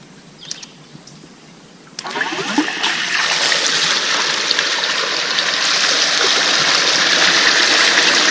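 Water rushes steadily through a battery-powered Gold Hog Piglet sluice box setup, starting abruptly after a few quiet seconds with a faint click, then a loud, continuous splashing flow that builds slightly and holds to the end.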